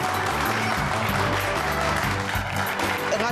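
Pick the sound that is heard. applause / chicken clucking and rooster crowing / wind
applause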